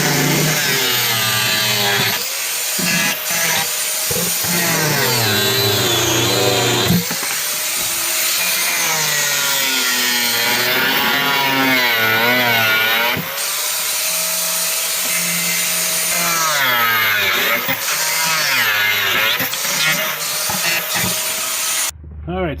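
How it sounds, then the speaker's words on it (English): An angle grinder runs continuously and loudly while cutting metal tabs on a 2008 Club Car Precedent golf cart, whining with pitch shifts as the load changes and briefly stopping and restarting, with no speech. "Next thing is I'm going to cut these tabs that are sticking up so the battery can sit flat. So we're just going to use our grinder."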